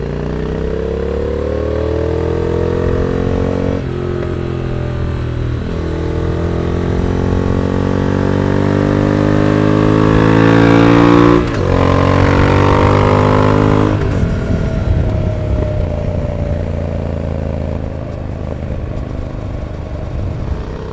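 A motorcycle engine drones steadily at speed, its harmonics shifting through gear changes and revs, with a broad rush of wind noise layered over it throughout.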